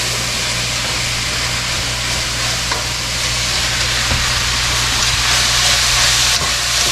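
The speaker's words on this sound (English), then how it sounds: "And keep stirring it so it doesn't stick or burn" Stuffed eggplant filling, seasoned with onion powder, stirred as it fries in a pan: a loud, continuous close sizzle with light scraping throughout and no voices.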